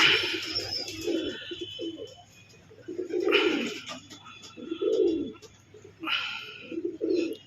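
Several pigeons coo in repeated low, throaty bursts, kept in a loft with more birds outside, with faint chirps and ambient noise between the calls.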